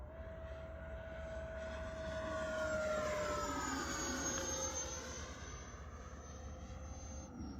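A jet-like whine from a Flyfans K8 Karakorum 80mm electric ducted fan RC jet sweeps past with a rising then falling pitch, loud and sustained over a steady rumbling background, like a small aircraft passing overhead.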